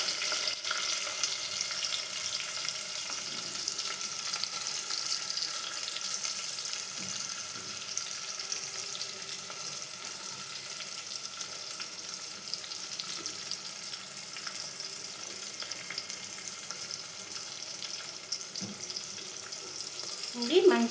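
Sliced onions and green chillies frying in hot oil in a pan for a village-style chicken curry, a steady, even hiss of sizzling that holds throughout with faint occasional clinks.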